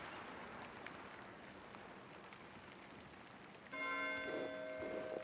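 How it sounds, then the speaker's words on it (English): A bell rung by Matthias at an abbey in a point-and-click video game, with tolling tones entering near the end over a steady rain-like hiss, moderately loud against the soft background. "Why is Matthias ringing the bell?"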